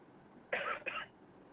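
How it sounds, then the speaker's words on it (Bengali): Two quick, forceful coughs close to the microphone, the second shorter than the first, with quiet room tone around them. "আপনি একটু জোরে কাশি দেন"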